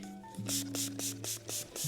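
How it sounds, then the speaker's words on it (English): Several short hissing spray bursts in a steady rhythm, close by, over a low background hum. "And I do spray a decent amount, but I don't spray it every day."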